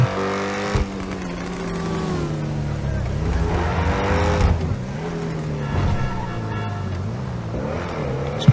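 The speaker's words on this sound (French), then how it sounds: "le petit bruit du turbo est joli, mais sinon j'aime pas trop le brap, on dirait une tondeuse à gazon" A modded car in GTA 5 with a Honda engine and turbo drones steadily with shifting revs and a faint turbo whistle, while people talk over it.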